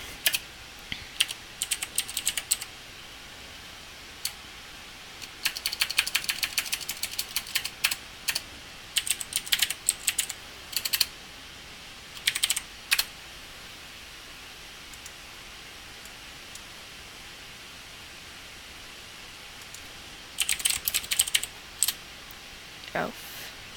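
Bursts of clicky computer keyboard typing come in irregular clusters against a quiet room hum, with pauses between runs of keystrokes and a few louder taps near the end.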